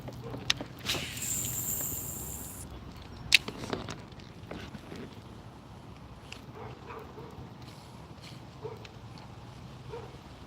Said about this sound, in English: I think that dog's barking at us.